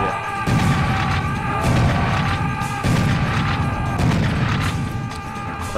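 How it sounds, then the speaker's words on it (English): Serious Sam: The First Encounter tree blown apart by an explosion, heard as repeated heavy booms and crashing bursts over a dense layer of game music and gunfire, loud and continuous throughout. "I just blew up that tree."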